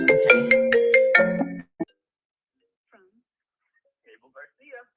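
Phone ringtone plays loud and close as a rapid, bright repeating melody for about a second and a half, followed by a short blip, then near silence with faint, sparse voice fragments.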